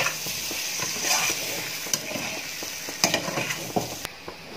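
Frying taro leaf pakodas being stirred after lemon juice goes into the pan: continuous loud sizzling with a steady run of spatula scrapes and a few sharper clinks, close and with no voices.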